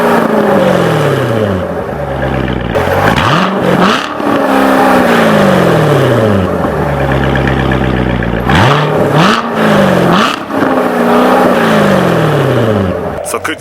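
A Chevrolet C7 Corvette V8 in track mode revs hard several times, each loud rising roar dropping away sharply with crackles between, close and dominant over a person talking.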